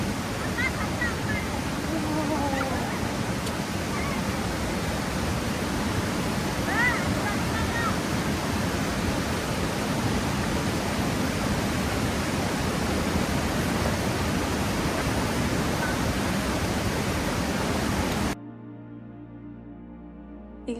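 Fast-flowing, freezing stream water in Switzerland, a loud, continuous close rushing roar with no pauses, ending abruptly near the close.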